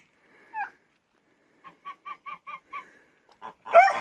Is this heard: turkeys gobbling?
yes